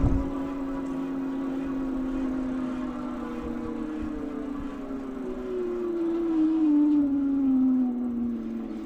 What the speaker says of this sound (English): I'm going to kind of be quiet and let you hear the motor